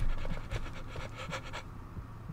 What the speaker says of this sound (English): Why am I breathing so fast?